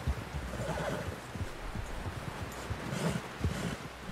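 Horse in Red Dead Redemption 2, faint hoof clops and snorting movement over soft wind and rustling ambience, with no speech.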